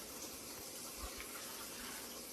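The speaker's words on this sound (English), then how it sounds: "Add your water." Water pours steadily into a turmeric drink with a light, continuous trickling splash, quiet and close, with no voices.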